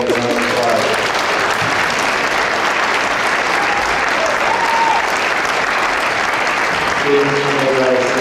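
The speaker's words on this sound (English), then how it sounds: "Let's give our classroom award winners a round of applause." Loud, sustained applause fills a hall at a school academic awards ceremony for classroom award winners, a dense wash of many hands clapping, with a voice speaking briefly under it at the start and end.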